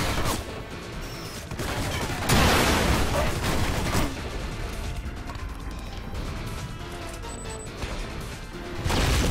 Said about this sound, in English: it's a good thing I didn't get there sooner or I'd have been badly hurt in that truck explosion